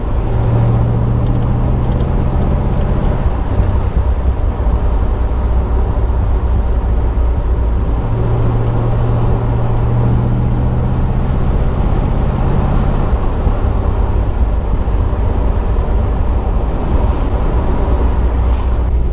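An unrestored 1972 Chevrolet Corvette is driven at around 50 mph through a series of turns, giving a continuous engine drone that shifts pitch through the corners under steady wind and road noise.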